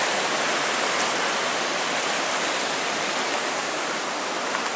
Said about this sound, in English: And one last look at the Cascade River.